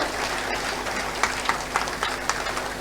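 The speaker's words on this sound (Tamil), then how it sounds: "சும்மா உட்காந்துருக்கீங்களா, கைதட்டுங்க" Audience clapping at the Virudhunagar Book Fair, a steady wash of many hands with a few sharper individual claps standing out, moderately loud and without talk.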